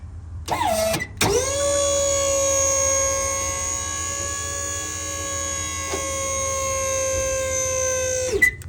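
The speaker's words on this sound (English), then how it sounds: "I have had to replace this pump motor on this one time, but check this out." The electric hydraulic pump motor of a dump truck bed on a new Ford F250 starts up and then whines steadily for several seconds, loud and close, with a brief hitch midway.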